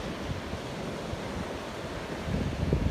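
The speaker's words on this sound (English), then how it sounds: "So yeah, so here's the ocean." Ocean surf rolling onto a beach, a steady broad wash of breaking waves with some wind noise on the microphone, growing louder and closer toward the end, with no voices.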